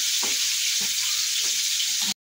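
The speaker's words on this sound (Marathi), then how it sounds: "फोडणी टाकते" Tempering spices sizzle in hot oil for dal khichdi, a steady close crackling hiss with a few soft stirring knocks, ending abruptly.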